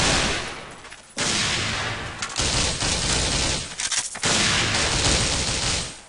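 Gunfire in the CrossGas Europe video game against mutants, dense and loud, with sustained bursts of rapid shots broken by brief gaps near one, two and four seconds.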